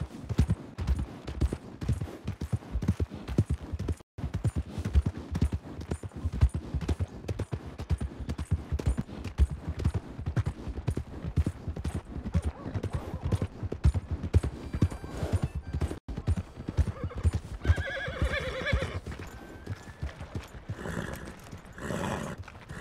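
Steady clip-clop of galloping hooves in the video game Red Dead Redemption 2 runs throughout, with a horse's whinny rising near the end, all fairly even in loudness.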